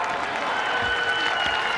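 Arena crowd at a Syracuse women's basketball game cheers and applauds steadily in a dense, continuous roar, with faint whistle-like tones and no clear speech over it.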